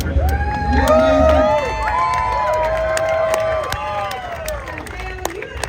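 A large crowd at the Dover race track cheers and shouts, a loud, continuous roar of overlapping voices and whoops with scattered claps, staying near and steady throughout.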